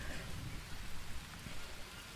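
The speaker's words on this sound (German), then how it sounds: "Oh, es regnet, das ist gut." Steady rain falls in the jungle survival game Green Hell, a continuous even hiss of dense droplets at moderate volume with no voices over it.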